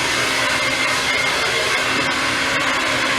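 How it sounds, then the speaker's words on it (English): A handheld hair dryer blows steadily and loudly with the nozzle pointed down while drying hair, a constant broadband whoosh with no pauses or talk. "getting the hair dry, adding a little shine to it."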